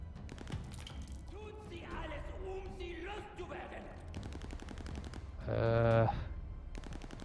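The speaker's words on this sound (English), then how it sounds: "Somebody's firing indiscriminately." Gunfire in the Call of Duty: Vanguard video game crackles as rapid bursts under ongoing speech, with a louder, denser volley near the end of the stretch.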